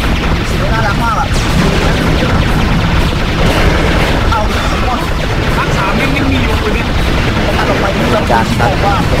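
A laser gun in the video game Serious Sam firing continuously, a loud, dense barrage of rapid zapping blasts that runs without pause through the whole stretch.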